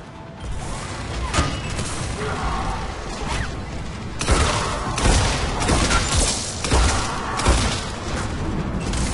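Gunfire in Mass Effect: rapid bursts of weapon fire with heavy impacts and crashing booms, loud and dense throughout, continuous combat with no talking over it.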